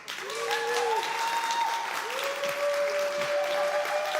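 Conference crowd at a React Native event clapping continuously, a thick, even roar of applause with whistles or voices rising over it and no pause.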